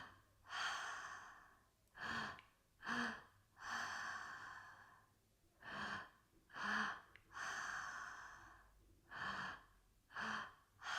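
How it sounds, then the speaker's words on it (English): Slow deep breaths in and out through the nose during a relaxation breathing exercise, about seven or eight airy breath cycles with short pauses between, close and quiet, no talking. "that parasympathetic breath in and out of the nose"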